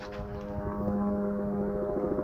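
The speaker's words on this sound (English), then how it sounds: "Oh, I see it. It's a helicopter." A helicopter flies over a desert homestead, its steady loud rotor and engine drone filling the whole moment without a break.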